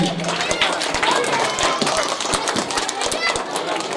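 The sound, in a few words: applause during a shawl-presentation ceremony at a school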